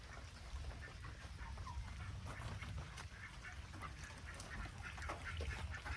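A flock of ducks quacks and chatters continuously at moderate distance near a barn, over a low, rumbling background.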